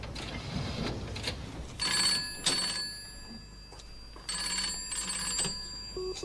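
An old-style telephone bell rings in a room, sounding as a few loud bursts of rapid ringing separated by short pauses, with no voices over it.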